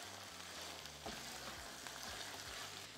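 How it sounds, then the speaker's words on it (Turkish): Beans frying in a pot for fasulye pilaki give a steady sizzle while a utensil stirs them with soft, repeated scraping strokes, close and fairly quiet. "Bir tur karıştıracağım."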